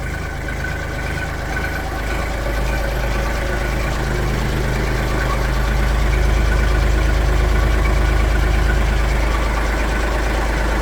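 Diesel tractor engine idling close by after a glow-plug start, a steady low knocking chug that holds even and loud, swelling slightly heavier partway through, with no talk over it.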